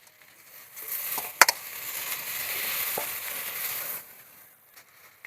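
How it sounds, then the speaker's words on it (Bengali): Loitta fish is dropped into a hot pan and stirred, giving a sharp splash-crackle followed by a moderate sizzle that fades toward the end, with a few utensil clinks. "একটু নেড়ে চেড়ে নিয়ে দিয়ে দেবো মাছগুলো"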